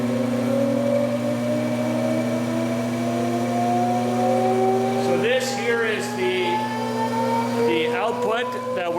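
A ReGenX Quantum Motor and generator run together, giving a steady loud mechanical hum with a tone that rises slowly, with brief whirring shifts near the end; a voice talks throughout.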